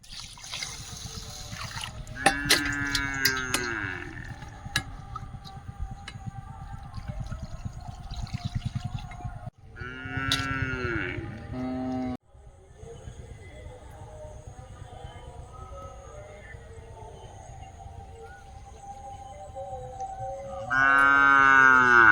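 Cows mooing at a rural home, several drawn-out bellowing calls in bursts, fairly close, over a steady background trickle of water.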